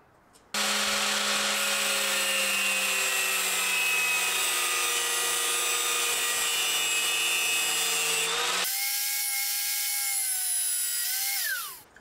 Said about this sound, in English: I'm going to grind the torque nut square so that it can fit